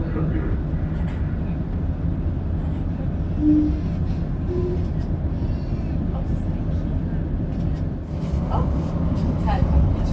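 A Northern train runs along a Yorkshire railway line, its steady low rumble filling the carriage interior throughout, with voices talking over it.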